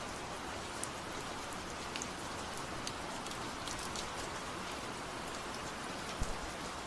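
Rain falls steadily and evenly as a dense hiss, with occasional sharper drops pattering on a surface.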